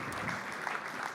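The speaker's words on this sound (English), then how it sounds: "So let's give Charlie Silver a big round of applause." Audience applause for a speaker at a tech talk, a steady wash of clapping from the crowd that fills the whole short stretch without pause.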